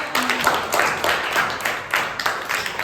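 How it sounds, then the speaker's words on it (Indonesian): A class or audience claps for Keisha during an Islamic studies lesson, a moderately loud burst of clapping that continues unevenly with some sharper individual claps near the front. "Tepuk tangan buat Keisha."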